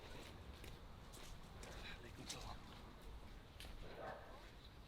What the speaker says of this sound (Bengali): কুকুরের আওয়াজ শুনতেছি আমি